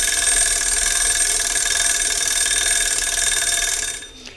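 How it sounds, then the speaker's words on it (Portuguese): A kitchen timer's bright, continuous electronic alarm rings steadily at fairly loud volume aboard a boat, then cuts off near the end, leaving quiet room tone. "20 minutos, o timer já disparou."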